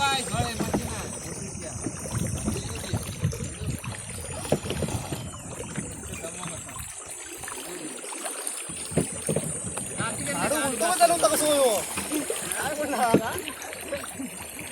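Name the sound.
rowing boat racing on water in Konkan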